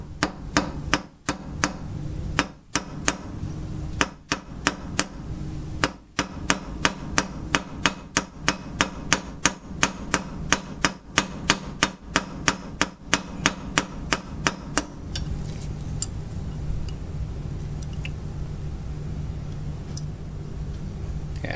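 Hammer blows ring out on a bolt cutter resting on an anvil, a long run of sharp metallic strikes, at first irregular, then quick and rhythmic, before stopping for a quieter stretch at the end; no voices.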